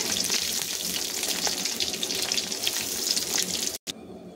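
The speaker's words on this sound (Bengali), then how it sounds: "মাছগুলোকে সুন্দর করে এপাশ ওপাশ লাল করে ভেজে নিয়েছি" Fish frying in hot oil in a pan, a dense, continuous crackling sizzle close up, with no voices, cutting off abruptly near the end.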